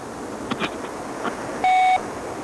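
An answering machine beep sounds after a voicemail greeting, one steady electronic tone of about a third of a second that stands clear above faint background noise.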